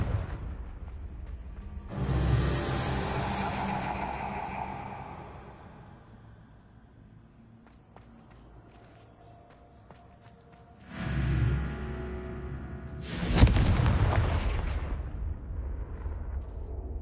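A Confringo blasting spell explodes in Hogwarts Legacy: two deep, rumbling booms about nine seconds apart, each swelling and decaying slowly over a low ambient bed.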